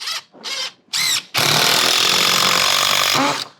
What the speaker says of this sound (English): we're actually gonna screw through our fascia into that